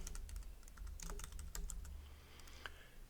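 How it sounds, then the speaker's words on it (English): Quick clicking keystrokes on a computer keyboard come in a rapid, uneven burst, then thin out to a few scattered taps, close and fairly quiet with no voices. "I can start typing"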